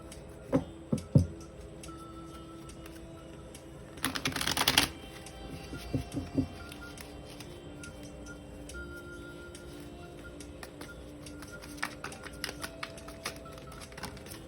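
Two tarot decks, the Chakra Wisdom Tarot and Mythical Goddess Tarot, being shuffled by hand, with a dense burst of riffling card flutter amid scattered soft taps and clicks in a quiet room.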